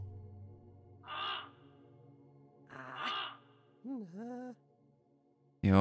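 A bird in the video game Samorost 1 Remastered gives a few harsh, separate caws with pauses between them, close and clear, against a quiet low hum.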